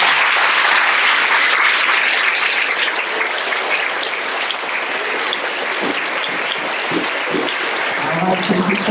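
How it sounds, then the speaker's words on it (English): A school awards-ceremony audience applauding second-round winners, loud sustained clapping from a large crowd that thins slightly toward the end. "let's give our second round winners a round of applause."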